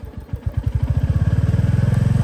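A motorcycle engine fires up and settles into a steady, rapid, loud idle thump close by, with no talk over it.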